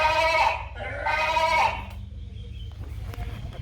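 A sheep bleats twice in quick succession, two loud, close, wavering cries heard on a rail journey from Adelaide to Mt Gambier, followed by a low, steady rumble.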